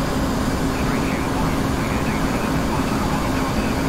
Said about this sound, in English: look at these lovely RAF Jaguar. Aircraft.